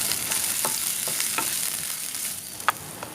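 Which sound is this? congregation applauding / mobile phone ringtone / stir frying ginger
stir frying ginger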